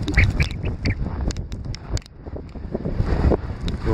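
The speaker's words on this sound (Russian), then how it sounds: "Мощный буран, еще и холодно." Strong blizzard wind roars outdoors beside school sports grounds on a cold day, buffeting the microphone in loud, continuous gusts, with no one speaking.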